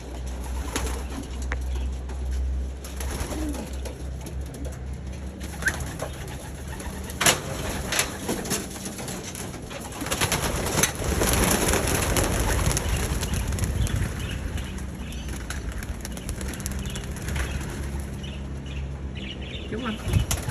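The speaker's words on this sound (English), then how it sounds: "Let the pigeon out for a fly." Pigeons in a loft coo in low, repeated rolls as one is let out to fly, with bursts of wing flapping and rustling; a person talks intermittently over the birds.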